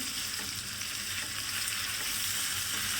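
Chicken boti masala frying in oil in a covered pot, giving a steady, dense sizzle that holds close and even the whole time, with no talking.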